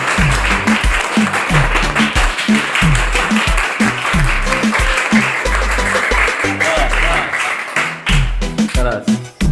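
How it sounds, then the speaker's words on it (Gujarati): Applause from the audience at a school National Science Day programme after students present chemistry apparatus, steady clapping throughout over a strong rhythmic music beat, with voices also mixed in. "એકવાર જોરદાર તાળીઓ ભાઈ."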